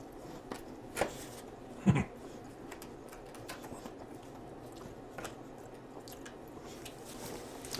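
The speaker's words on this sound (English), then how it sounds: "I'm eating shrimp ice here." Someone crunches and chews frozen shrimp ice up close, with a couple of brief, quiet crunches followed by soft, continuous chewing.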